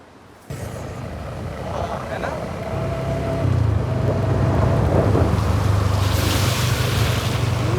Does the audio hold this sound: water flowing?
yes